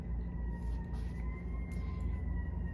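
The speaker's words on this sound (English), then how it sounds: "hold on, there's an ambulance. Let me wait for that to finish." An ambulance siren passing outdoors, steady and fairly faint beneath a constant low rumble of background noise, with thin wailing tones running through the whole stretch and no one speaking.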